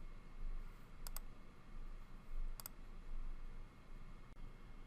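A computer mouse gives two quick double clicks, faint and close, over a low steady room hum.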